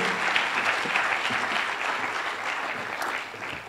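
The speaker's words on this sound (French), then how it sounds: "On applaudit jusqu'à ce qu'il arrive ici" Steady, continuous applause from an audience at a business event launch, clapping densely and evenly throughout without a break.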